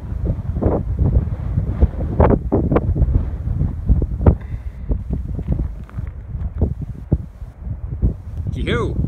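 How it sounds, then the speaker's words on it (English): Strong morning wind buffets the microphone in a continuous gusty rumble on a hike in the Chugwater Formation toward Bridal Veil Falls, with a person speaking briefly over it. "Very windy this morning."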